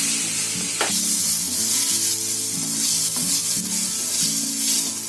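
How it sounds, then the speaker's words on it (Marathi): Onion and tomato fry in hot oil in a pan, giving a loud, steady sizzle that runs unbroken throughout, with a few soft scrapes and low clinks from utensils beneath it. "कांदा आणि टोमॅटो आहे ना असा तेलामध्ये भाजून काढायचा"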